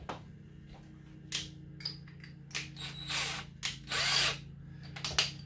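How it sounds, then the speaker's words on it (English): Short bursts of a whining electric drill with a boring tool scraping out a hole for mounting a racing wing, several separate pulses of varying length over a low steady hum. "So now you got a boring tool on your drill. Just hit it, try to clean it up"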